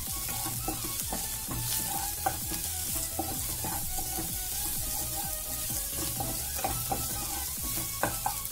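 Carrots and beans for a veg burger patty sauté in a hot pan, giving a steady close sizzle with frequent scraping stir strokes and utensil taps throughout, and no one speaking.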